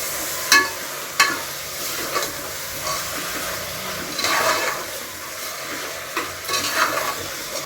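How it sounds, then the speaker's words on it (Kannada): Chicken liver pieces stirred and fried in a pan, a steady hissing sizzle with scattered sharp scrapes and clicks of a spoon against the pan, moderately near and without talk. "ಕ್ಲೀನಾಗಿ ಒಂದ್ಸತಿ ಮಿಕ್ಸ್ ಮಾಡ್ಕೊತೀನಿ"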